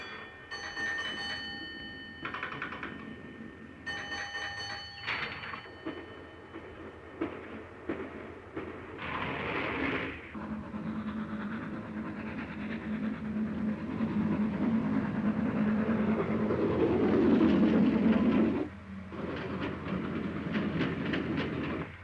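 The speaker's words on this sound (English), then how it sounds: "The train gathers speed" A train in an old LMS railway setting gathers speed on the rails, with bell-like signal tones and hissing bursts early on, then a swelling rumble and rhythmic wheel clatter that grows louder before a brief dip.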